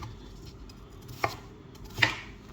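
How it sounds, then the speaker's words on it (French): Two sharp knife chops on a board, potatoes being cut for a baked chicken dish, each a single crisp thud spaced apart against a quiet kitchen background. "je vais couper nos pommes de terre"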